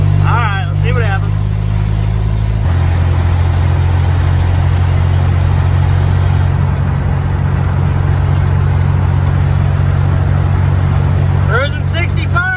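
A 1951 car cruises at highway speed, its engine giving a steady low drone with continuous road and wind roar throughout, and a voice speaks over it.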